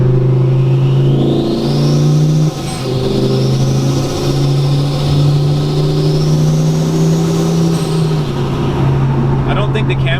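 A 1,040-horsepower twin-turbo Lamborghini Gallardo engine drones loudly and steadily from close by, with a rising and falling whine over a deep, sustained engine tone under a voice.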